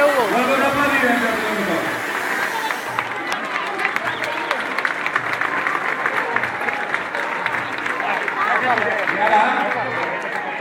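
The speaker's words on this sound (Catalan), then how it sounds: "Vuelve a aplaudir" Applause rolls on at a street festival parade, a steady wash of clapping from a crowd that runs the whole time while someone talks over it nearby.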